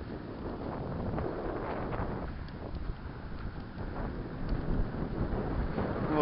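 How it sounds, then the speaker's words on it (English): Blustery wind buffets the microphone on a beach at Perdido Key in February, a steady broadband rush with a low rumble that holds for the whole stretch, slightly rising toward the end, with no voices. "A blustery day on the beach."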